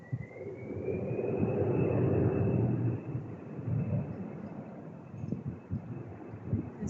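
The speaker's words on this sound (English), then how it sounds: "There's the airplane going" Airplane passing overhead, a broad roaring rumble that swells to a peak and then fades, followed by quieter background noise.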